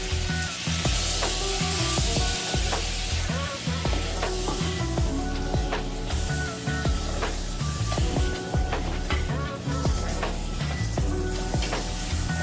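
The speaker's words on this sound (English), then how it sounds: "the Earth Balance margarine, it takes a tiny bit longer for it to melt" Earth Balance margarine melts and sizzles in a hot pan, a steady, dense frying hiss that runs throughout with scattered clicks and scrapes of stirring, close and loud, with no talk.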